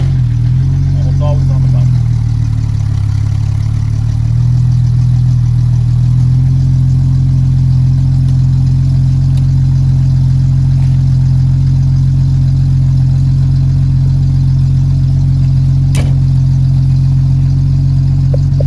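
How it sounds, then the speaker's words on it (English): A 1961 Jaguar Mk II 3.8 with manual gearbox and overdrive starts, its engine revs settling into a loud, close, steady idle that runs throughout, with someone talking over it. "So I give the SU fuel pump just like 2 seconds to pressurize, clutch in, and hit the start button"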